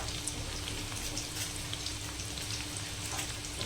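Green chilies, coriander, curry leaves and mint fry lightly in a pan, giving a soft, even sizzle that crackles steadily throughout without any talking.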